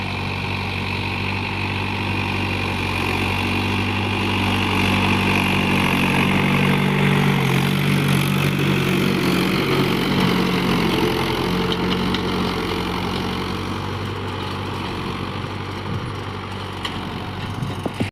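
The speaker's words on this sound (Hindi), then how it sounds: "कितना अच्छा लग रहा है ट्रैक्टर बहाते हुए" A Mahindra tractor ploughing a field, its engine running steadily with a continuous low rumble and drone that holds even and close throughout, with no talk.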